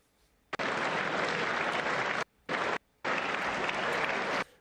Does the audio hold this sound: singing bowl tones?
no